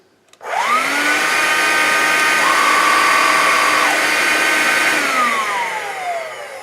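A Vax Life cordless vacuum cleaner switches on and runs steadily nearby, a loud whirring motor whine with a rising pitch at startup, a brief pitch shift midway, then a slight falling tone near the end, with no talk over it.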